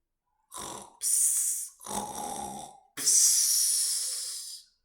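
A voice imitates loud snoring in several drawn-out rasping breaths, each snore a harsh hissing rumble with short pauses between.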